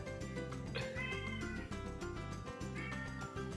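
A cat meows repeatedly over a loud, dense music bed, its cries rising and falling against the steady rhythmic backing.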